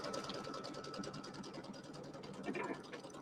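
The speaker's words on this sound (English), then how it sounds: "So we're going to sew out the batting placement line." An embroidery machine sews out a batting placement line for an Easter settee pillow, its needle chattering in a steady fast rhythm, moderately quiet and close, with no talk.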